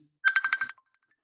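A mobile phone ringtone sounds for an incoming call, a short bright burst of about five rapid warbling pulses that stops abruptly, leaving near silence.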